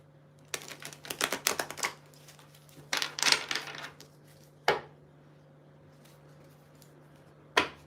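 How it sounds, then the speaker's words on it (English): Bursts of rapid papery riffling and flicking as tarot cards are shuffled, in short flurries with pauses and a couple of sharp taps. Close, with a faint steady hum. "Let's give the cards a good shuffle first."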